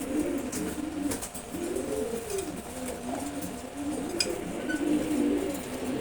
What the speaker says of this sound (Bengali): আমাদের এটা সেই লেভেলের কবুতর।